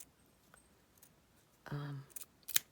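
Scissors snip through the end of a craft piece, a short slicing cut followed by a couple of quieter crisp clicks, close and alone in a quiet room.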